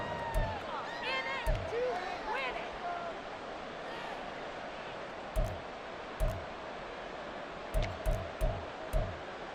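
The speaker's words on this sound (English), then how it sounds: "This Buffalo crowd letting them have it." Simulated Buffalo stadium crowd in the Madden NFL 24 football game, a steady broad roar with scattered thuds and a few brief cheers, running under continuous play-by-play commentary.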